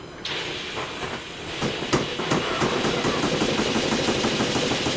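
A small Stuart No1 model steam engine, rebuilt from a basket case, runs steadily on about 25 psi steam, with continuous hiss and rapid rhythmic exhaust chuffs, close up and fairly loud.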